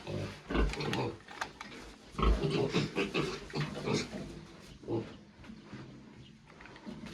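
Grunting and snorting from a piglet at weaning, repeated bursts of rough noisy vocalizations, fairly close, with some background rustle.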